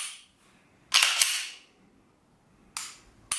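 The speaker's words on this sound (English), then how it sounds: "Let's go ahead and dry fire it." A Taurus G3 pistol being dry fired: a short, sharp metallic burst near the microphone, then two crisp trigger clicks in the quiet.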